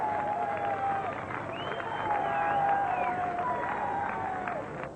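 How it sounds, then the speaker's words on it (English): A crowd applauds around the ground at a 1996 Zimbabwe versus England Test cricket match. The clapping is distant and fairly soft, with a wash of crowd noise and whistle-like tones running through it. "the delighted Nasser Hussain acknowledges the applause from all around the ground"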